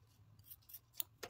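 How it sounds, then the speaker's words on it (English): Scissors snip through microfiber tape wrapped on a slingshot fork, a few quiet rasping cuts with a crisp snap at about one second and another just before the end. "I'm gonna get scissors and snip that"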